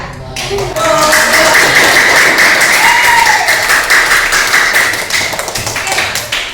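A classroom audience claps for the Mekah group after their presentation, a loud, dense burst of applause that starts abruptly and holds steady before thinning slightly toward the end, with voices mixed in.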